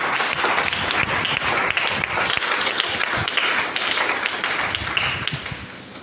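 Church congregation applauding the Lord, a steady wash of many hands clapping with some scattered voices mixed in, sustained and fairly loud, fading slightly at the end.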